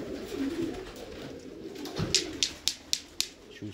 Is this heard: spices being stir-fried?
no